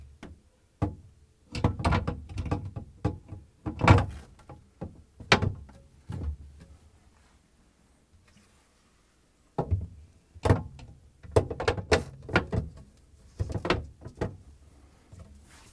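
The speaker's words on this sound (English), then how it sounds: "now I'm going to install the top shelves." Top shelves are fitted into a GE refrigerator, giving a series of irregular plastic clunks, knocks and sliding scrapes up close, with a quiet pause in the middle before another burst of handling thuds.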